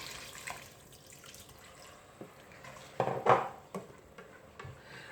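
A cup of water pours briefly into a pot of daal mash, a soft splashing burst mid-clip amid light kitchen clatter and faint dripping.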